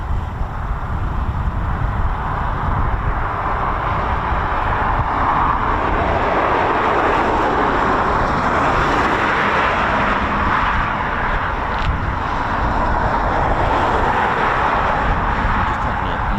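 Eurofighter Typhoon FGR4 jet on long final approach to land at RAF Coningsby, a steady broad engine roar that holds loud and even throughout, with no talk over it.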